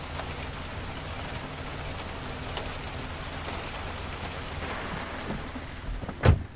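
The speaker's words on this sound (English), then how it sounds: "It's raining." Steady rain pours down on a rainy night, a constant dense hiss from start to finish, with one sharp louder knock near the end and no voices.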